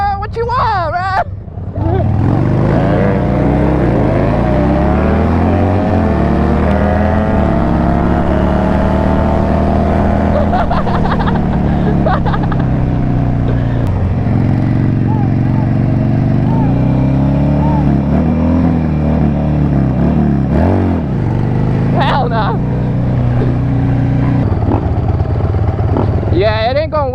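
A Honda 150 motorcycle cruises with a steady engine drone that shifts in pitch as it speeds up and slows down, loud and close throughout.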